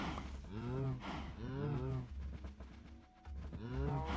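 Minecraft cows lowing in a repeated series of drawn-out moos, loud and close, with brief gaps between calls and faint game ambience underneath.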